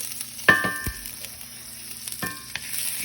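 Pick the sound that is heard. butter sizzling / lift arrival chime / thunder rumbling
butter sizzling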